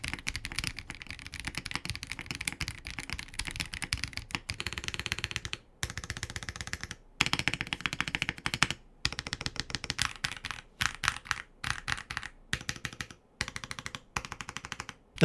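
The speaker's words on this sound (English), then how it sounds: "Adding in the case foam corrects the hollowness and thinness of the no foam configuration and sounds the least foamy, very neutral sound" Fast, close typing on a Zoom 98 mechanical keyboard fitted with case foam, a dense stream of crisp keystrokes with brief pauses between runs.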